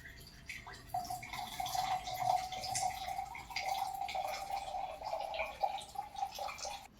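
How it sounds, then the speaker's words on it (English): Water trickles and splashes out of a plastic bottle as air from a released balloon pushes it through a straw, a faint, uneven dribbling that runs for several seconds. "Water starts coming out from water due to air pressure from balloon."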